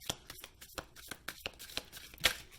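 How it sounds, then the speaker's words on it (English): A deck of cards is shuffled by hand during a card reading: close, crisp riffling and slapping rustles in a quick, uneven series, with no talking. "I'm going to shuffle 3 times"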